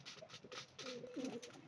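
Hungry racing pigeons cooing softly in their loft, a few low murmuring coos close by over quiet background noise.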